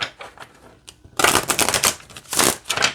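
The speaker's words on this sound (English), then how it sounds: "let's see how it shuffles" Rapid papery riffling and flapping of glossy, slippery Wild Woman Rising oracle cards being shuffled, in several loud bursts after a quieter start, close by with no talking.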